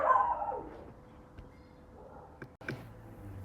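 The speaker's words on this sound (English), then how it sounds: "there was a dog barking outside, so my dog decided to join them" A pet dog barks indoors, answering another dog barking outside; a few short, moderately loud barks and yips come in bursts against a quiet room.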